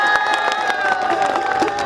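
A crowd at a friendly football event in Lalitpur cheering and clapping to welcome a chief official, with loud mixed whoops, shouts and applause close by throughout.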